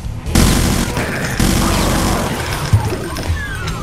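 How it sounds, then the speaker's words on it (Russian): Heavy machine gun fire roars in the Brutal Doom video game, with dense, loud bursts and explosive booms layered in a chaotic, continuous barrage. "Пулемет, мачинган."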